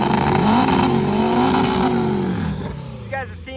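A primered hot rod with dual injectors accelerates hard at a track, a loud engine note that climbs in pitch, then fades and drops away, with a voice talking briefly near the end.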